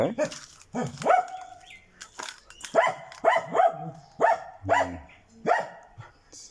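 A dog in a bushy coat barks repeatedly in close, loud bursts, several sharp barks in a steady rhythm with brief whimpery tones between them.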